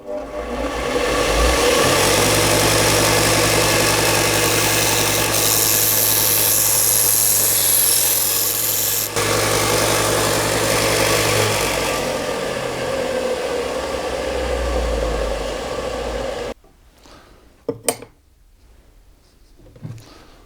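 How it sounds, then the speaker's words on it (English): A power drill boring a hole in metal for a chicken coop, a loud, sustained whirring drone that runs for roughly sixteen seconds, then stops, followed by a few faint knocks. "And then I need to drill a hole."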